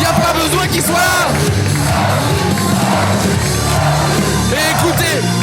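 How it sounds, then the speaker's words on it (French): A packed arena crowd at a tough-guy one-on-one fight match roars and cheers loudly and continuously, with whoops and shouts rising above the din. "Et écoutez, l'acclamation, le bruit stratosphérique."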